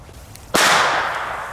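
One new firecracker goes off with a single sudden, very loud crack, close by, whose harsh noise rings out and decays slowly across the remaining second.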